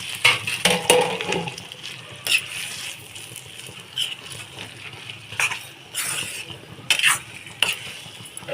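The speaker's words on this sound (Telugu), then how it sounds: "ఈ కారం కూడా అంతా కలిసే విధంగా కలుపుకోవాలి" A spoon scrapes and stirs chili powder through egg masala curry in a pan, giving intermittent clinks and scraping strokes over a low sizzle, with no talking.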